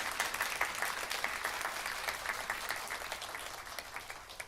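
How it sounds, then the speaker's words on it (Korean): A church congregation at Sunday worship breaks into steady, dense applause of welcome, continuous and evenly sustained throughout with no talking over it. "잠시 일어나시면 저희들이 박수로 환영하는 시간 갖도록 하겠습니다."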